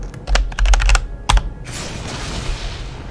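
Rapid clattering keystrokes on a computer keyboard pressing debug keys in a map editor, a quick burst of loud clicks, a pause, another cluster, then fading into a soft hiss.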